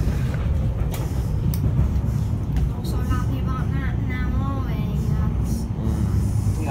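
A steady, heavy low rumble fills the inside of a moving train heading to Colchester, continuous throughout, while people talk over it.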